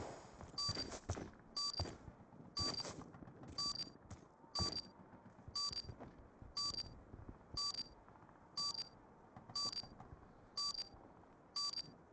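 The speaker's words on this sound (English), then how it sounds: "bomb has been planted" Bomb timer beeping in Black Ops II, a steady series of about a dozen evenly spaced high electronic beeps over a noisy background, continuing for the whole stretch without speech.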